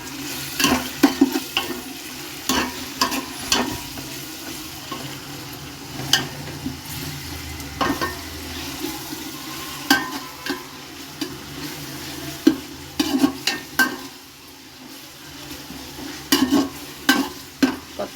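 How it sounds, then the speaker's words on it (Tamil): Biryani masala with coriander and mint for chicken biryani is sautéed in a pan, a steady frying sizzle punctuated by frequent sharp spatula scrapes and knocks against the metal, close and lively. "நல்லா வதக்கி விட்டுருவோம் ஃப்ரெண்ட்ஸ்."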